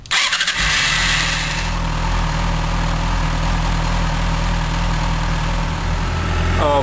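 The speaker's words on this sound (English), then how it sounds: "now we're going to go ahead and start the motorcycle" A motorcycle engine cranks and catches with a sharp burst, then settles into a loud, steady idle close by, during a throttle body synchronization.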